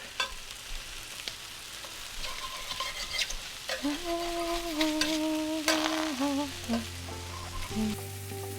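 Mushrooms, zucchini and other vegetables frying in a pan, with a continuous close sizzle and crackle, soft stirring scrapes and a few brief tonal squeaks over the hiss.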